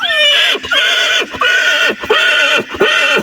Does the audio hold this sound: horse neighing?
yes